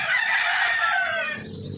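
A rooster crows loudly once, a long sustained call that fades out near the end, with no talking.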